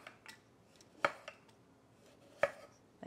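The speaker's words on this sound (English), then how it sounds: "I'm just going to slice it about an inch thick." A knife cuts through fruit on a cutting board for a spring fruit salad, making a few soft, close chops with two sharper knocks against the board in a quiet kitchen.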